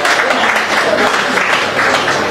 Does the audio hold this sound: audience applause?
yes